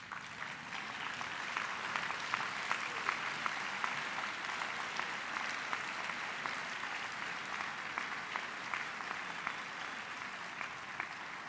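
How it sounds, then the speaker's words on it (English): A standing graduation ceremony audience claps steadily for over ten seconds, a broad even wash of many hands at moderate distance with no voices on top. "Please stand and give them a round of applause."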